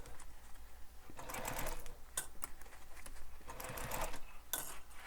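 Sewing machine stitching right beside the interfacing of a crossbody bag, quiet close bursts of rapid stitching with short gaps and small clicks, faint and alone.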